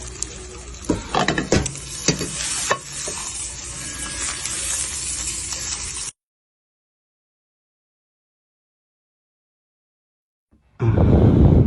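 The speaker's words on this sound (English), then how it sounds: "Look at that egg frying." Sizzling and crackling of an egg frying in a pan, with a few scraping clinks, then a stretch of silence before the frying noise returns loudly.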